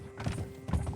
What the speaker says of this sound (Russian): Что происходит? Лошадь.